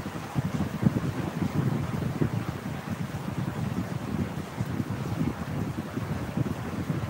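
Heavy rain falls on a wet, windless afternoon, a constant dense roar with a low rumbling weight that continues unbroken throughout.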